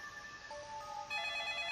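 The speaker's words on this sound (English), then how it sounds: "As soon as I got home, the phone rang" A telephone in a visual novel video game rings with a faint electronic trill, a soft tone that swells into a brighter, fuller ring partway through, with no other sound around it.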